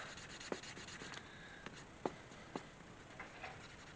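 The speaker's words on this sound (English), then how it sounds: "I'll take my burnishing tool and I'll start burnishing that" A burnishing tool rubs along the sanded edge of a leather card holder in soft, faint strokes, with a few light tapping clicks between passes in a quiet room.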